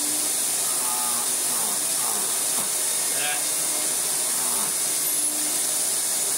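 An Electrolux Turbo 2 Z1070a vacuum cleaner runs with a constant airy hiss and a high motor whine, holding an even level from start to finish.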